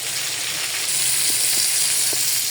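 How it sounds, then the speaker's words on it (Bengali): Shrimp legs frying in hot oil in a pan, a steady dense sizzle running throughout with a few faint soft taps, close and fairly loud, no voices. "এই যে পাগুলো হচ্ছে আমি ভেজে নিতেছি, পাগুলো দিয়ে দিচ্ছি"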